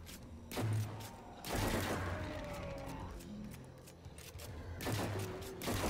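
Fourth Horseman shotgun blasts tear into an ogre in a video game, four heavy booming shots at irregular intervals, each followed by crashing impacts and lingering rumble.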